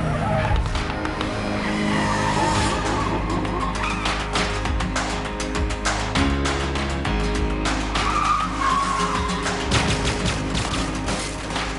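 Cars racing each other in a film scene, engines roaring with tires skidding and squealing, mixed loud and continuous under a dense music score throughout.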